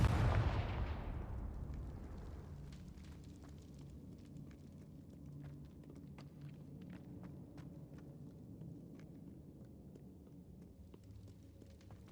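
A Confringo fire spell in Hogwarts Legacy goes off with a heavy, booming blast at the start, which fades into a long rumbling tail scattered with faint crackles and small pops.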